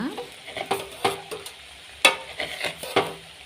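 Okra and tomato curry frying in an oiled pan, with a soft ongoing sizzle broken by sharp scraping stirs of a spoon, several distinct strokes at an irregular rhythm, close and alone.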